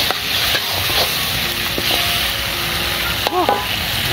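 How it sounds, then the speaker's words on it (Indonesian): Ground spice paste with bay leaf, lemongrass and galangal stir-fries in a pan, a steady close sizzle with scraping stirs, and a voice briefly speaks over it near the end. "oseng bumbu yang udah dihaluskan ya sobat"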